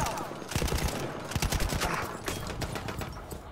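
Gunfire in the shooter game Battlefield 1 during a team deathmatch: bursts of rapid shots crackle at close to mid range, clustered and uneven in rhythm, with no talk over them.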